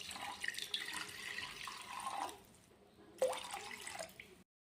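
About one and a half glasses of water poured into a pan for dry ginger coffee, a near, fairly soft splashing stream in two bursts that ends in silence.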